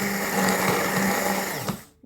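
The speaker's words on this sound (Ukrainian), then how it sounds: "Зараз будемо збивати блендером" An electric blender whips a banana and apple fruit cream, a loud steady whir running without pause close by, then winding down and cutting off at the end.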